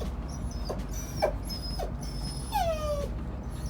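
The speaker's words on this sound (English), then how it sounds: "Can hear Ranger crying." A dog aboard a Nordhavn 40 boat in gale winds whimpers in short, high, thin cries, one drawn-out whine near the end, over a steady rumble of wind and background noise.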